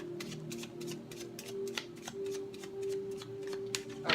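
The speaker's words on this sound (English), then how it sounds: "One last shuffle for Virgos who have chosen deck 1." A deck of tarot cards is shuffled by hand in a quick series of crisp riffling snaps and flutters, close and fairly quiet, with a faint steady hum underneath.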